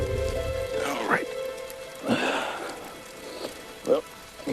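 Steady rain patters on a surface in the background, with a few louder drips and rustles breaking through the soft, even hiss.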